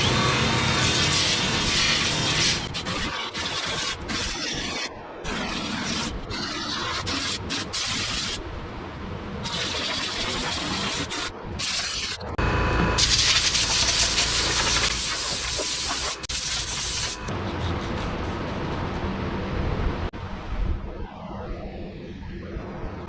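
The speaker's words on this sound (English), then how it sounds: "I'm just going to go around with my sander and scuff up all the lip all the way around" A power sander scuffs the fiberglass roof lip of a BMW E82 drift car, a continuous harsh abrasive whir that runs steadily with brief interruptions and changes in pressure as it works around the edge.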